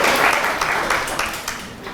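A crowd claps in applause at a summer youth camp lecture hall, a dense, steady patter of many hands lasting about two seconds, fairly loud and close, with no one speaking over it.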